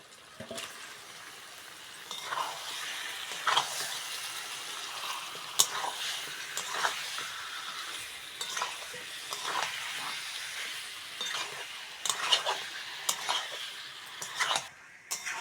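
Chicken and jackfruit seeds frying with spices in a pan, a soft steady sizzle broken by intermittent scrapes and taps of a stirring spoon against the pan, fairly quiet and close.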